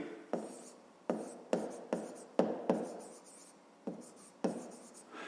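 A pen scratches out a math solution on paper in close, crisp strokes, roughly nine quick marks with short gaps between them.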